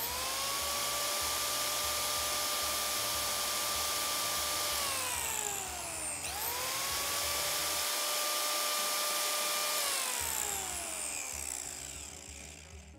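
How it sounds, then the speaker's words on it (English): An angle grinder with a cutoff wheel slices through a motorcycle throttle cable and housing, two rising high-pitched whines each winding up, holding, then spinning down, loud and close with no talk. "now we're going to grab our grinder and cut it with a cutoff wheel"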